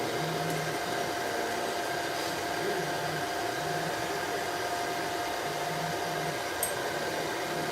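A cheap pet hair dryer blows steadily while a cat is groomed for a lion cut, a constant broadband whoosh with a faint low hum running unchanged throughout.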